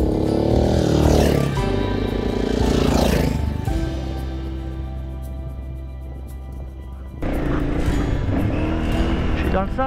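Car engine revving hard while driving through desert sand in Morocco, loud and close with rising and falling surges of engine speed, a sustained lower drone through the middle, then a fresh burst of revving.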